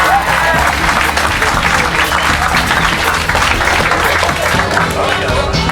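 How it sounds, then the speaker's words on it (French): A crowd loudly applauds the finalists of the Stan'Nice 2019 eloquence contest, dense continuous clapping with some cheering, close and strong throughout, over a low steady hum. "on peut les applaudir encore une fois"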